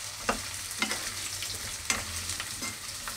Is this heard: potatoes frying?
yes